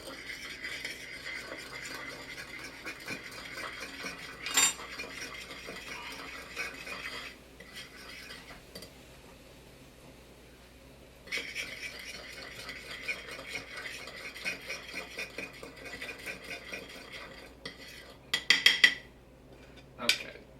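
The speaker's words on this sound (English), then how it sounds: "I'm actually take one of my little spoons, just kind of mix that in" A small spoon stirring simmering sauce in a pot, with faint clinks and scraping at a few points over a quiet background hiss, no talk.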